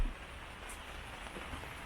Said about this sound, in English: Raining, raining, raining.